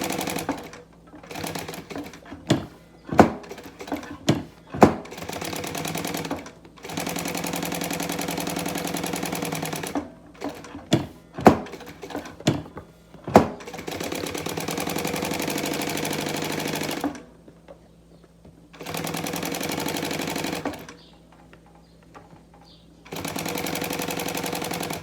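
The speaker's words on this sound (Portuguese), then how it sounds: "a gente tá costurando por cima do papelão" A sewing machine stitches synthetic leather over cardboard, running in quick stuttering bursts and then longer steady runs, loud and close, with short pauses between passes.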